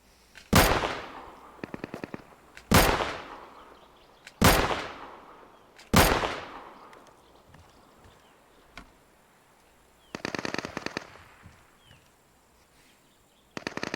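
Gunfire in the video game Deadside: four loud single shots spaced about two seconds apart, each ringing off in a long echo, plus quicker rattling bursts of fainter distant fire between and after them.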